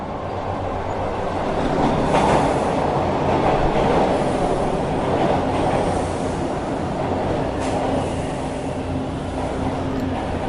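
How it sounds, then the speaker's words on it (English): A train rumbles along its rails with a steady low roar and faint rhythmic clatter, swelling slightly midway, then easing and settling toward the end with no voices. "The train jerked to a stop,"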